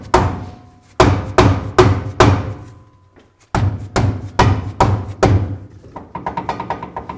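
A steel hammer strikes metal on an S10 truck in two runs of heavy, ringing blows, four or five each, then a quicker string of lighter taps.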